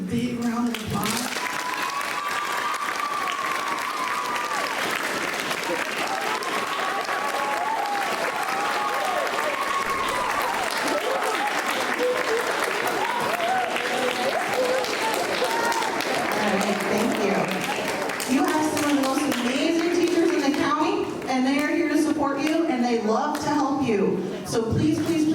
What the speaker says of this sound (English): can we give our teachers a big round of applause?